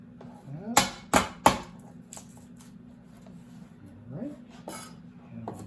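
A knife chopping garlic strikes a cutting board several times in quick succession, sharp close chops early on, then a few softer taps, with a faint hum underneath.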